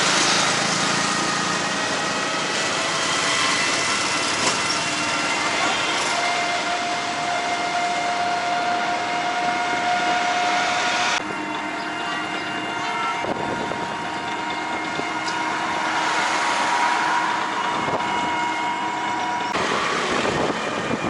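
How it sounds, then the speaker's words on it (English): Tuk-tuk ride through Jaipur, the small engine buzzing steadily and loudly throughout, pitch shifting with speed and a whine rising at moments, with road noise blended in. "It's about a half an hour tuk-tuk ride."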